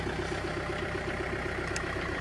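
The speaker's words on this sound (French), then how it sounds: "là je suis au ralenti au niveau du tracteur" John Deere micro tractor idling with a Lely Lotus 300 tedder attached, a steady low rhythmic engine chug, close and continuous with no speech.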